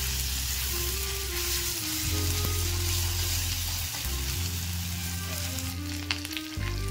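Ginger, whole garam masala and cumin seeds being stirred and fried in a pan: a continuous close sizzle with the scrape of a spatula and a steady low hum running underneath throughout.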